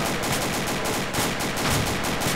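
Machine gun fire in the Insurgency video game at a night-time base, a loud continuous rattling stream of rapid automatic shots without pause, with no voices over it.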